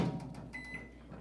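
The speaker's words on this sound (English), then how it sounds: "So I'm going to put this in the microwave" A microwave oven starts up with soft beeps and a faint click, heard close and quiet over a low steady hum, with no talking.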